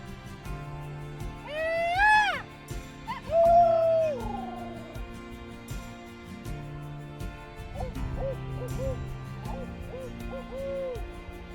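A person imitates an owl's hoot by voice during turkey hunting, giving a few wavering, hooting calls that rise and fall, followed by quieter, softer hoots.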